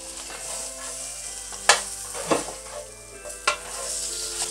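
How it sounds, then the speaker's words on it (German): A whole duck sears in a hot pan with a steady, close frying sizzle, broken by a few sharper crackles and spits, and no one speaks over it. "Und das lassen wir jetzt schön anbraten"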